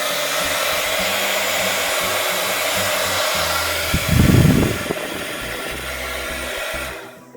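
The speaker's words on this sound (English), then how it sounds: "I'm going to be taking the sound off while using this heat gun because all you're going to hear is this" A heat gun shrinking plastic gives a steady, loud rushing roar of hot air that swells briefly in the middle, then settles and cuts off at the end.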